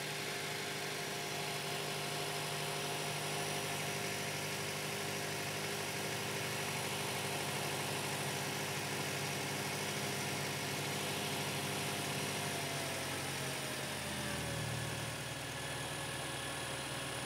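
A car engine on a vehicle with its fuel pump disabled runs steadily at idle for a long stretch, a close constant mechanical drone that dips and shifts near the end.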